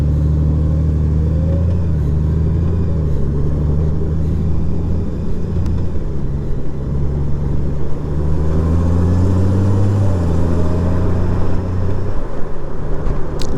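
Steady road traffic and engine rumble heard from a Honda Goldwing motorcycle on a ride from Georgia into Tampa, Florida, a continuous loud drone with shifting engine pitch and no talk.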